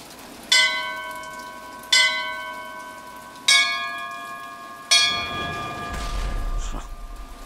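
A church bell rings in four loud, evenly spaced strokes, each ringing on with long bright overtones, before a low rumbling noise swells in near the end.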